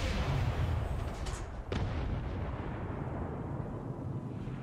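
Weapon fire and explosions rumble in XCOM 2 War of the Chosen, a dense, roaring blast wash with one sharp crack partway through, fairly faint and continuous, no talk.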